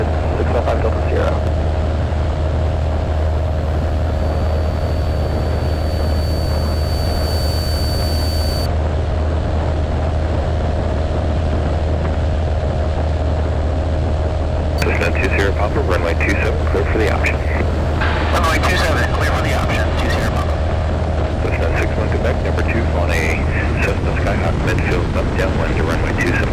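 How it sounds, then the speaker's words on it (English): A Cessna 172SP single-engine airplane during takeoff at Stinson Field, its engine droning loud and steady throughout, with radio chatter and voices heard over the engine. "fly straight ahead, runway 27, clear for takeoff"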